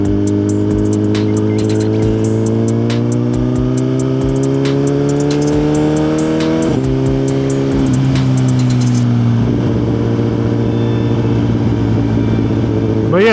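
A liter bike motorcycle engine while riding, loud and close with a steady droning hum that climbs slowly in pitch, dips at a gear change, then settles into a lower drone with wind rushing.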